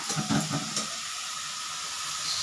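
A potato and lentil mixture sizzles steadily in a pan while dal chorchori cooks, with a few soft clanks of stirring early on, then an even, continuous hiss.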